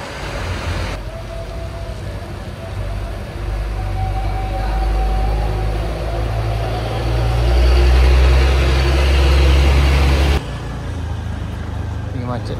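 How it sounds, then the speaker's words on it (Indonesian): Traffic on a flooded road beside a broken bridge, with a truck rumbling past at close range, its low engine drone rising to a peak and then dropping away. Steady road noise continues underneath throughout. "kendaraan yang kayak truk yang ini udah bisa lewat"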